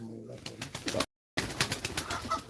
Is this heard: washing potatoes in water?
no